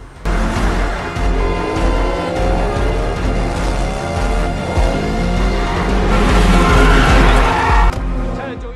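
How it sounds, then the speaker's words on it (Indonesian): Tires skid and squeal during a car chase in a Donnie Yen action film, layered with engine roar, music and effects in a dense, loud continuous mix. "Dan Bong mengejarnya menggunakan mobil"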